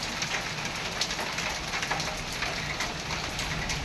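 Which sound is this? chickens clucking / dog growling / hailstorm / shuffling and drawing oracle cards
hailstorm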